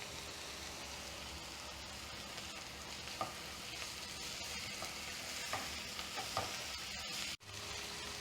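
Crushed ginger, green chilli and garlic fry in a pan for egg korma, a constant low sizzle with faint scattered stirring taps and one brief dropout, close but quiet, no one speaking.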